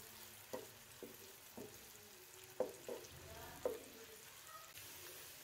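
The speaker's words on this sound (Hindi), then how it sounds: "जैसे ही ऑयल गर्म होगा इसमें नॉर्मल साइज़ का फाइन चॉप किया हुआ प्याज ऐड करेंगे और प्याज को हल्का फ्राई कर लेंगे।" Finely chopped onions frying in hot cooking oil in a karahi, a faint low sizzle with occasional soft stirring knocks, quiet and without talk.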